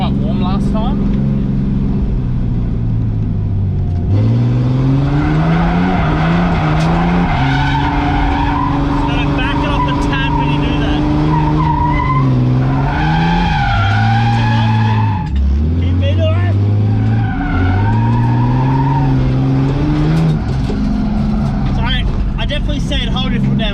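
Underpowered car drifting, its engine revving and dipping continuously as the tyres squeal and skid in long sliding stretches, loud and close, with someone talking over much of it.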